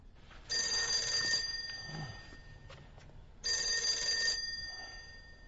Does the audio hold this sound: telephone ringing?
yes